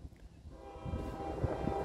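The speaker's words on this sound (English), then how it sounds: "I forgot that we had a train down here, way down there." A CSX auto rack freight train rolls past in the distance near Greenwich, Ohio, on a line with damaged rails, a faint steady low rumble with a brief horn-like swell toward the end.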